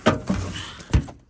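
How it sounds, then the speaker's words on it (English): The access panel of a Goodman furnace is fitted back into place. Several hollow metal knocks and thunks come close together, with a final solid clunk as it seats. "Door's back on."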